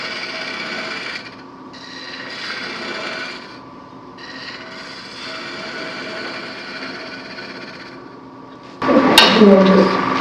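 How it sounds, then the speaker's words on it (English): A wooden caddy spoon being sanded gives a steady raspy rubbing in long strokes with brief pauses, then a louder, harsher burst of scraping near the end. "and then just do a little sand on that"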